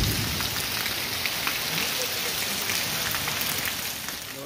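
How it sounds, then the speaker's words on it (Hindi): Heavy rain pours down in a village, a loud, steady hiss of drops drumming on surfaces close by with no break. "आज गांव में बहुत ज़्यादा बारिश हो रही है"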